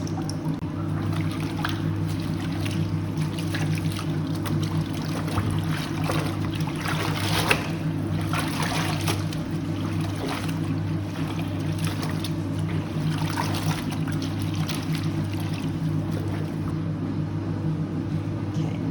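Supplex fabric soaking and being squeezed in water, a continuous close sloshing, trickling wash over a steady low hum, with no talking.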